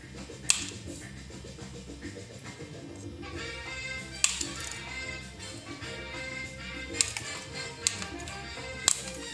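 Faint sharp clicks and snaps of mosaic tile being cut into a small triangle, a few scattered crisp cracks over a low background hum.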